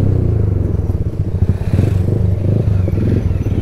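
Honda motorcycle ridden with three people aboard, a steady loud engine drone with rattling and wind rumble, close and continuous.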